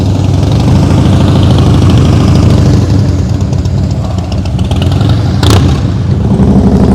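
A motorcycle engine in slow-speed riding practice rumbles loudly and close, easing off throttle midway so the revs drop briefly before it picks back up, with a short sharp noise near the end.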